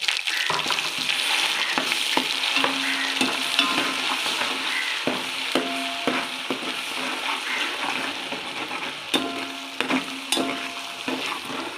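Ginger garlic paste frying in hot oil in a pan, a loud continuous sizzle up close, with a spoon scraping and knocking against the pan now and then while it is stirred.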